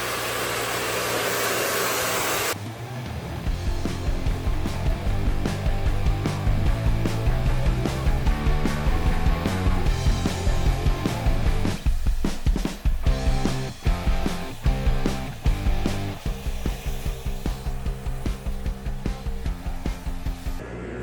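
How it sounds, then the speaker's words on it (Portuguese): A handheld hair dryer blows steadily at a barbershop while drying a client's freshly cut fade, a loud continuous whooshing whir with faint clicking and handling noises after it starts. "Vou estar utilizando aqui um secador"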